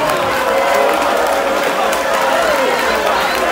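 Outdoor concert crowd at a performance at UG Legon clapping and cheering in the rain, a loud, dense wash of applause and shouting that stays continuous and close.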